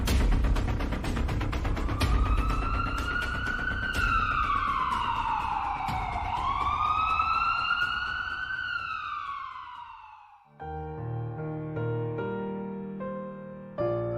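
Ambulance siren wailing loudly with a rising and falling tone for about ten seconds, then giving way to a different tonal sound.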